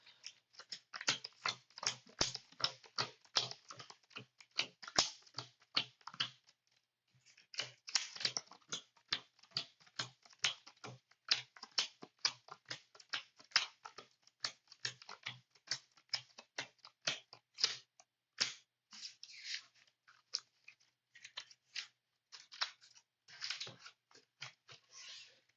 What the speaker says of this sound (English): I have to shuffle it better because I did not shuffle it